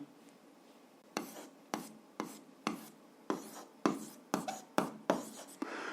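Pen strokes by hand writing down a math answer for a 7th-grade algebra exercise, a series of about ten short scratchy bursts in an irregular rhythm, close and clear in a quiet room with no talking.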